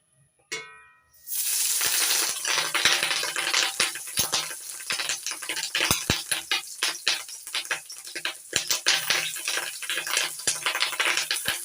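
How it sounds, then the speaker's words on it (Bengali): Boiled Katla fish eggs hit hot mustard oil in a wok, with a short clatter, then a loud, steady sizzle full of crackles and pops that continues close and unbroken, without any voice. "দিয়ে দিচ্ছি সর্ষের তেল তেল গরম হয়ে গেছে এবার সেদ্ধ করে নেওয়ার ডিমগুলো ভেজে নেব"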